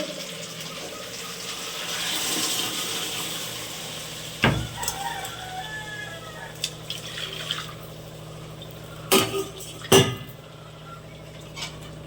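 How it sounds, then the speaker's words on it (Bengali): Hot water poured into a pressure cooker to rinse off clinging masala from a mutton and potato gravy, a soft running wash with several sharp metallic knocks and clanks, fairly quiet, no talk. "জলটা একটু কুকারে দিয়ে কুকারে যে মশলাগুলো লেগে আছে সেগুলো এরকমভাবে ধুয়ে আমি দেবো"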